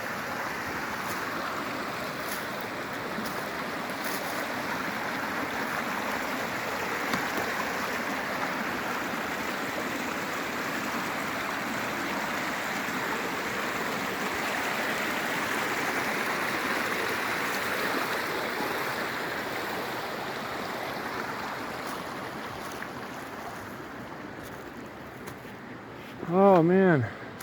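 A creek flows in a steady, broadband rush across an April hillside in Utah, continuous and fairly close, with a brief voice near the end.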